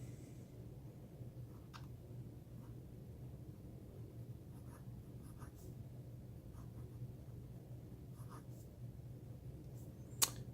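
A Knox Aristotle fountain pen nib writes on paper with Birmingham ink, making faint, sparse scratches and light ticks over a low steady room hum.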